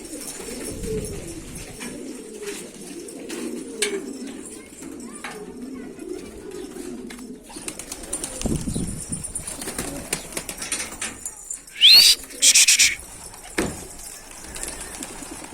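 Pigeons coo softly among other bird calls, with a brief flutter of wings and scattered background noise.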